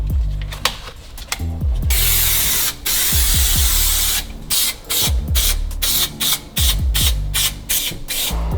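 Contact adhesive hisses from an aerosol can onto the carpet of a VW T3/T25 Vanagon cab, coming in loud, close bursts of varying length separated by short pauses and handling clatter.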